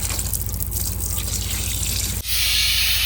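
Water drains from the engine of a 1974 Pontiac Ventura that was left for dead, a loud continuous trickling and spattering with a steady low mechanical hum underneath and a brief dip near the end.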